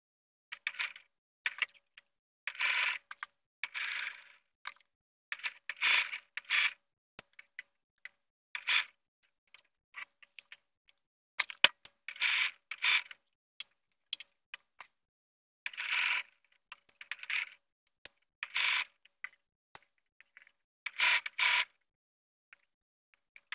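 A sewing machine stitches down zipper tape along the back side of a pant leg in short bursts of rapid whirring, each a second or two long and separated by quiet pauses, close and fairly soft.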